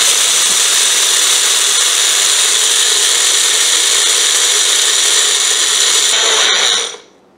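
A mixer grinder grinds dal into a fine powder with a steady, loud, high-pitched whirring roar that holds constant for several seconds and then cuts off abruptly at the end, with no talking.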